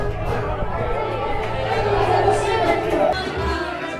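Crowd chatter fills the inside of an Irish pub, a steady hubbub of many overlapping voices close around with a low hum underneath.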